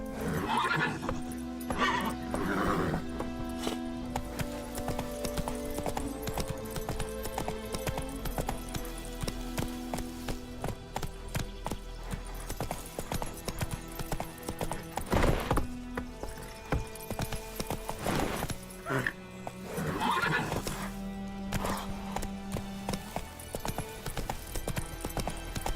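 Roach the horse in The Witcher 3 galloping with rhythmic, continuous hoofbeats, broken by several loud whinnies and neighs, under in-game music and ambience.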